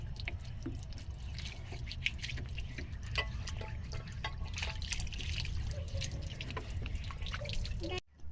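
Water is poured in small amounts over a child's hands in an outdoor ritual setting, giving a continuous trickle with scattered drips and splashes for several seconds before cutting off abruptly at the end.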